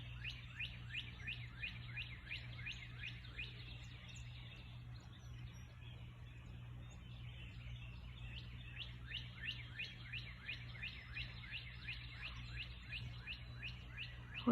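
Birds singing at dawn: repeated quick chirping phrases come in bursts over a faint low hum, moderately distant and soft, with no one talking.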